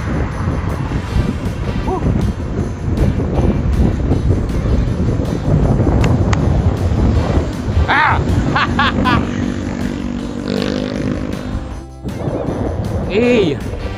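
Strong wind buffets the microphone in loud, continuous gusts, with brief engine-like rumble and a short voice near the end.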